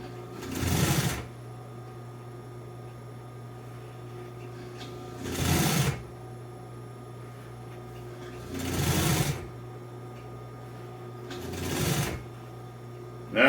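Sewing machine stitching car interior trim for a 1955 Chevy two-door post, running in four short bursts of rapid stitching spaced a few seconds apart over a low steady hum, close and without talk.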